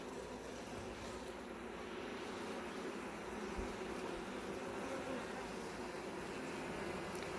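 Honey bees hum inside an open hive during a colony inspection, a steady droning buzz with a tonal band that stays even throughout, fairly close, with no speech.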